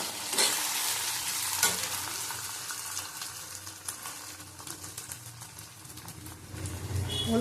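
A whole tomato sizzles in a pan of fried ginger-garlic paste, with a steady loud frying hiss, a couple of sharp clinks early on and occasional stirring scrapes, no voices.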